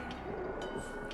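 Train passing a level crossing in a truck simulator game, a brief low rumble of rail cars with faint rhythmic clatter, muted and steady.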